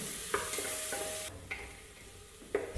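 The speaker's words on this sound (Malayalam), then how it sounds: "സവാള നന്നായി ചൂടായി കഴിഞ്ഞാൽ ഫ്ലെയിം മീഡിയം ഫ്ലെയിമിലേക്ക് മാറ്റി സവാള നല്ല ഗോൾഡൻ ബ്രൗൺ ആവുന്നവരെ" Sliced onions fry over medium flame for a beef khichda, giving a quiet, even sizzle with three distinct scrapes of a spatula against the pan, spaced about a second apart, and no voices.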